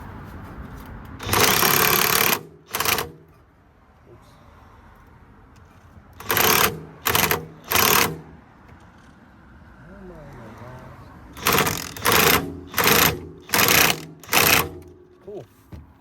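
A ratchet with a 17mm socket tightens a nut on an Acura TSX front wheel-bearing assembly, giving several loud, close bursts of rapid clicking separated by quiet pauses, with some talk between them.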